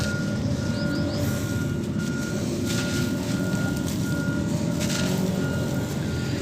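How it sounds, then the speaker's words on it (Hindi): Constant loud street traffic drones with rumbling engines, and a repeating reversing beep pulses steadily in the background, with no talking. "ट्रैफिक का शोर नहीं कभी ख़त्म होता।"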